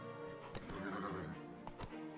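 A horse in a video game whinnies and snorts amid a few hoof clops while eating grass, fairly close, with no talking.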